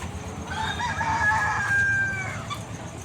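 A rooster crows loudly on a large poultry farm, its long call standing out over a steady background of chickens clucking.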